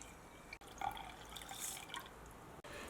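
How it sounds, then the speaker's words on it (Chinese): Rice being rinsed in clean water, a steady close trickle and splash of running water in a bowl or sink, soft and continuous, with a brief break near each end. "再加入清水冲洗一遍"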